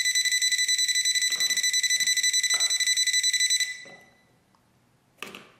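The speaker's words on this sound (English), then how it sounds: "We're going to use our voltage sensor, or voltage tester, whatever you want to call it." A non-contact voltage tester held near a household light switch gives a rapid, shrill, high-pitched beeping for several seconds before stopping abruptly. A couple of faint knocks and a brief rustle follow.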